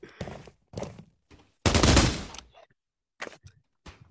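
Gunfire in the video game Pavlov, a handful of short sharp bursts with one longer, louder volley in the middle, separated by near silence.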